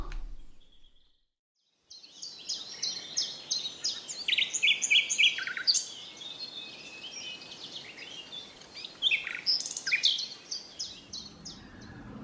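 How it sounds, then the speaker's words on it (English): Nightingale song in a springtime outdoor setting: rich, varied high chirps and trills arrive in bursts after a brief silence, moderately close and alone over a soft background hiss. "So let's go over to the nightingale."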